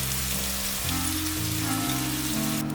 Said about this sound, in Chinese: 红萝卜我大约煎了2分钟左右